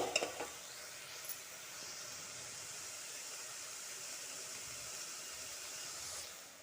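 Toor dal fries in a pan with a steady, soft sizzling hiss, preceded by a few faint clinks at the start, with no voices.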